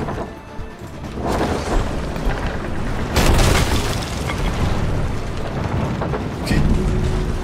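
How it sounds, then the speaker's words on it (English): Heavy ship cannon fire in a pirate naval battle game: deep booming blasts over a constant roar of sea and wind, with louder hits near the middle and the end, and no talk. "Hey, back on cannons if you can."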